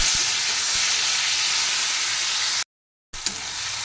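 Chopped tomatoes and onions sizzle in a hot pan with a steady, loud frying hiss that drops out briefly and then resumes.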